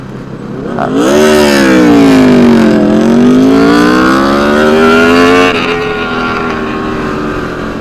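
An Aprilia RSV superbike engine revs past close and loud on a Sunday morning group ride, rising, dipping and climbing again in pitch over several seconds before fading slightly.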